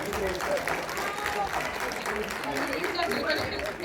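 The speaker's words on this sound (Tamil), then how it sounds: "அதுக்கு ஒரு பாராட்டு கொடுக்கலாம்" Audience applause at a Tamil pattimandram debate event, a dense, steady clatter of many hands clapping throughout, with crowd noise and a voice faintly underneath.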